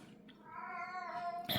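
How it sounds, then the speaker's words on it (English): House cat giving a drawn-out, wavering meow in the background of an indoor room, a single call lasting about a second at moderate volume. "You can hear our cat in the background."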